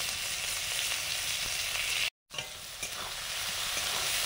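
Cumin, dry chilli, whole spices and chopped onion frying in oil make a close, steady sizzle with light stirring scrapes, briefly cut by a short gap of silence midway before resuming.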